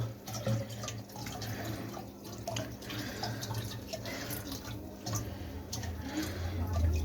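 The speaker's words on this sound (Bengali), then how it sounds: "এই যে বন্ধুরা রক সল্টের জলটাকে আমরা অ্যাড করলাম" Rock salt water is poured into a fish aquarium being treated for fin rot, making a steady, moderately quiet splashing trickle that swells slightly toward the end.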